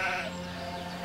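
A sheep bleats on a railway line, a single short wavering bleat, close and clear.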